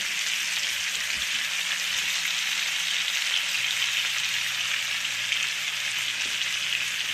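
Tomatoes and garlic pepper frying in a pan for shrimp linguine, a steady, loud, dense sizzle that holds evenly throughout with no talking.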